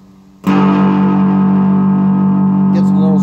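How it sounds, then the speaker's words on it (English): A cigar box guitar played through a distortion effect, one loud sustained chord struck sharply and left ringing with a thick buzzing drone, and a brief scrape near the end. "Gets a little stronger, the distortion."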